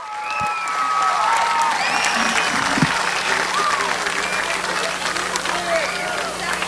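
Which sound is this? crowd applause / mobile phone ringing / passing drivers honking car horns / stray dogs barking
crowd applause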